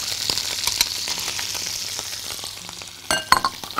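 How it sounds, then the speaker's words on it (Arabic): Chicken and carrots sautéing in a hot pan, a steady close sizzle with scattered crackles and a burst of louder spitting near the end. "هاخد بقى هنا الفراخ أشوحها تشويحة، معاها الجزر"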